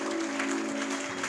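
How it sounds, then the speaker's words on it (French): Congregation applauding to welcome the pastor at a Sunday church service, sustained clapping from many hands over a steady tonal hum, fairly close and even throughout. "sous nos acclamations, nous recevons le pasteur"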